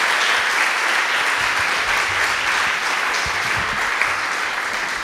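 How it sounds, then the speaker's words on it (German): A church congregation applauds during a sermon, a dense, steady clapping from many hands that continues evenly throughout. "Lass uns einfach klatschen und danken für diesen Sieg."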